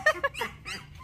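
Several young puppies whimper and cry up close in quick, high, thin yelps, two short cries followed by softer whining.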